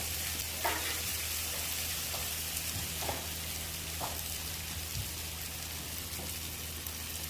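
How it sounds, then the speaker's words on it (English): A burger patty sizzles on melted butter on a flat-top cast iron griddle, a steady broadband hiss of frying with a few soft pops and crackles throughout, close and continuous. "We're going to put a dollop of butter right here before we set our burger patty on it."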